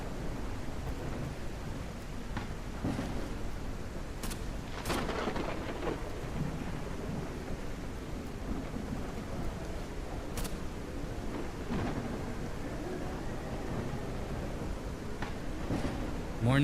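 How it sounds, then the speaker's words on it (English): Steady rain pours throughout a thunderstorm in the survival game SurrounDead, with several sharp thunder cracks and rumbles standing out against the constant hiss. "the rain is ridiculous right now. It's been raining for like 3 days straight."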